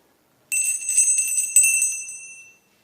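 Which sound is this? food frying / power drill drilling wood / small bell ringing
small bell ringing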